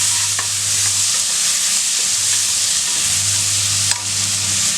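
Onions and tomatoes sautéing in a pan for a goat intestine curry, a loud steady sizzle of frying with occasional scrapes and knocks of a spoon stirring.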